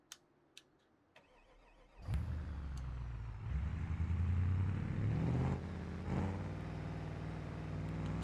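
A space car in a video game starts with a few clicks, then its engine roars up and revs loudly, the pitch climbing and settling into a steady throbbing hum before easing slightly.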